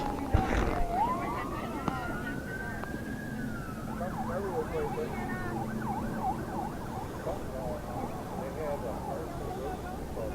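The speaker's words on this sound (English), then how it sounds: "Sirens going by Route 11 here and Mason's Corners." A siren wails and sweeps in pitch as an emergency vehicle passes on Route 11 near a softball game, fairly distant, with steady traffic noise underneath.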